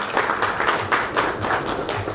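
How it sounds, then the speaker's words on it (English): A crowd claps steadily at a university school's inaugural press meet, a continuous patter of many hands at moderate loudness, close and even, with no talking over it. "Let us give a big round of applause to the man who made it"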